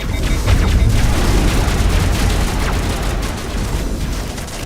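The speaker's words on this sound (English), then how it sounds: "Things shooting at me." Video game gunfire and booming blasts roll on in a dense, loud, continuous barrage, rumbling heavily in the low end without letup.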